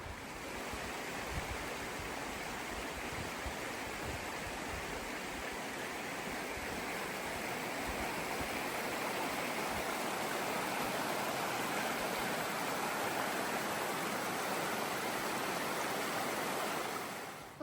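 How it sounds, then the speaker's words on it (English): A river flows right beside a dispersed campsite, giving a steady, broad rushing wash of water that stays even and close throughout with no talking. "and the river's right there."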